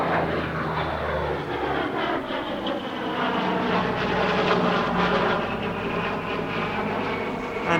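A P-38 Lightning warbird, painted as Skidoo and operated by the Planes of Fame Air Museum, roars steadily overhead at an airshow, its piston engines droning loud and continuous with a slowly shifting pitch as it passes.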